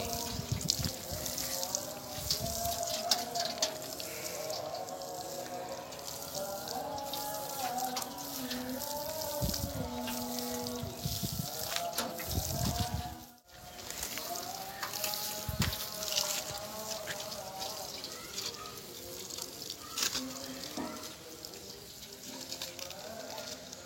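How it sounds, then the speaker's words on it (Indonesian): Water pours and trickles steadily onto bird's eye chili seedlings while people talk over it and background noise hums throughout. "ini caranya kita siram ya pada bibit cabai rawit"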